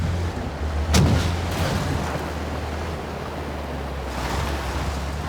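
A firefight in the video game Ghost Recon Wildlands, with one sharp, loud gunshot booming out early over a rumbling, surf-like wash of ambience. Fainter, muffled bursts and thuds follow.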